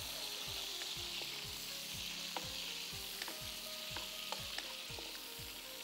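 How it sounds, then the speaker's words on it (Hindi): Sliced onion frying in oil in a pan, a steady soft sizzle with light crackles under a low rhythmic hum, close and fairly quiet, without speech. "ये प्याज मैंने एक स्लाइस करके रखी थी ये इसके अंदर हम ऐड करेंगे ठीक है और हमने इसको फ्राई करना है"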